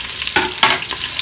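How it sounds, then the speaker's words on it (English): Onions frying in oil for a rice, chickpea and lamb dish, a steady close sizzle with a few brief stirring scrapes, no voices over it. "you fry them for a little bit"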